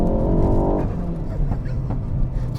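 Ford Focus ST Mk4 with a Revo stage two tune and Milltek GPF exhaust gives a brief loud, rising engine note that cuts off after under a second and falls to a rougher road rumble.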